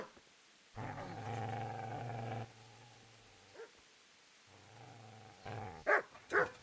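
A dog in Kingdom Come: Deliverance lets out a long, low, rumbling growl, falls quiet, snarls again more softly, then snaps off two sharp, loud barks close by.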